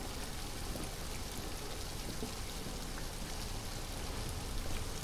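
Steady rain falls in the video game Detroit Become Human, a dense even patter on surfaces that holds at the same moderate level throughout, with no voices.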